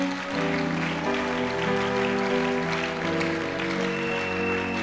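Church congregation at a thanksgiving service applauding, a broad patter of clapping spread across the room over a sustained musical backing of held tones.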